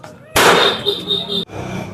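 Firecracker set off during Diwali celebrations in a rural Awadhi household: one sudden loud bang followed by a second of crackling, sizzling bursts that stop sharply, with quieter ambience after.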